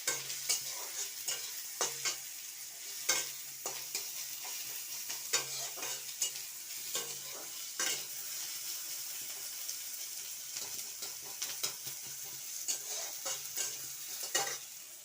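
Spiced tomato masala with chopped tomato, turmeric, cumin powder and salt is stirred in a frying pan, a steady sizzle broken by repeated scraping strokes of the spoon throughout, close and alone.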